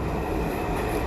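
Ride aboard a New York N train subway on a snowy day, with a dense, steady rumble of the moving car and a constant broadband roar, loud and unbroken throughout.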